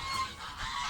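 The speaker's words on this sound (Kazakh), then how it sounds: "Бірнеше қаздардың ортасына кіріп базар шығарып жүрді." A goose gives a brief loud honk up close, a single call in a flock being stirred up by a duck.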